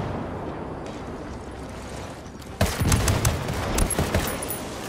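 Grenade explosions and gunfire in a first-person shooter video game, a muffled rumble followed by a sudden loud blast and a burst of rapid crackling shots.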